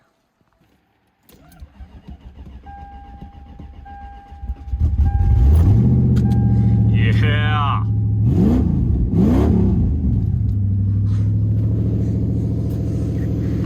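A Lexus car engine cranks and catches, then revs up loudly twice before settling into a steady idle; a brief word is spoken.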